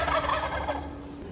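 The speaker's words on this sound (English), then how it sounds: "I'm watching a flock of wild turkeys walk around near my house" A flock of wild turkeys, four hens and two gobblers, walking near a house, gobble in a brief, dense, rolling burst with steady background noise and no talk.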